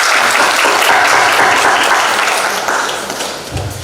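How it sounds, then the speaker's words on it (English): Audience applause for caregivers at a national cancer conference in Odisha, a full, loud burst of clapping that holds steady and then gradually thins out toward the end. "let's have a round of applause for them"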